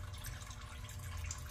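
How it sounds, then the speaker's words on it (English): Coolant drains steadily out of the radiator of a 1978 Ford F100 rat rod, a continuous soft trickling and splashing of liquid that stays at one level and has no talk over it. "it seems to be draining just fine"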